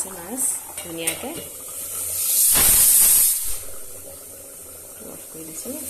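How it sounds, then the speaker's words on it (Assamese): A pot of fish curry with coriander leaves and green chilies bubbles on the stove, rising into a loud hissing sizzle for about a second midway, with a voice talking over it before and after. "উতলি আছে মাছ ধুনীয়াকৈ"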